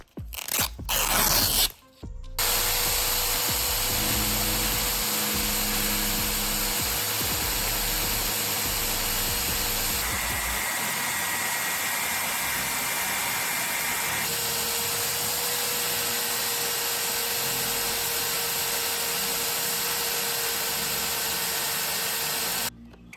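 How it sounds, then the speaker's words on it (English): A hand-held sheet of sandpaper smoothing a ground-flat surface, giving a steady, close, continuous scraping hiss with a faint hum underneath, after a couple of brief loud knocks at the start. "After grinding this in flat, I carefully smooth it out using sandpaper."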